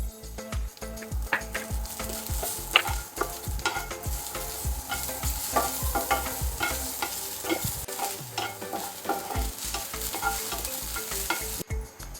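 Chopped onion dry-roasting in a pan for Maharashtrian mas vadi, stirred with rhythmic scraping and clinks over a continuous sizzle, with no talking.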